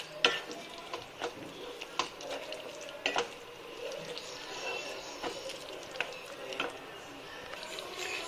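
Mashed lentils are stirred into cooked ponnanganni greens, giving soft wet squishing and scraping with scattered utensil taps against the pan and a faint sizzle, close and fairly quiet.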